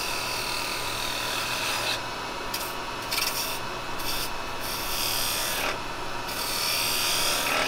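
Carbide woodturning chisel cutting into a spinning wood blank on a lathe, a continuous loud rasping scrape with brief pauses and surges as the tool is pushed in, no talking.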